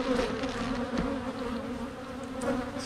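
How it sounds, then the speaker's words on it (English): Honeybees buzz steadily over a hive frame during an open-hive inspection, a dense continuous drone close by with a few individual bees rising and fading nearby, no talking. "That's a good frame of bees right here."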